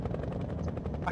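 A helicopter in the video game Nightmare House 2 whirs with a rapid, steady thumping of rotor blades, loud and close, with a voice mixed in.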